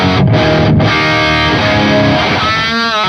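Marshall JCM2000 amplifier pushing a thick distorted electric guitar, loud sustained chords with a couple of sharp muted breaks early, then a ringing, wavering tail.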